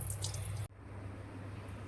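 Raw chicken rinsed in salted water in a kitchen gives a close, continuous splashing and trickling of water, which abruptly drops and then resumes as a softer steady running flow.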